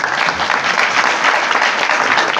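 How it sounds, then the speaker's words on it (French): Audience applause at an official ceremony hosted in the village of Grand Boubouri, a close, full burst of many hands clapping steadily for a couple of seconds. "Vous pouvez applaudir nos parents quand même."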